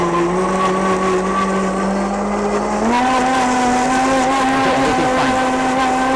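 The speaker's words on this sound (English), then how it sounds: "I'm going to use the medium speed to blend it until like puree" A SANSROL 2123A heavy-duty blender runs at medium speed, blending coconut chutney in a steady, loud motor whine whose pitch rises partway through. A voice briefly speaks over it.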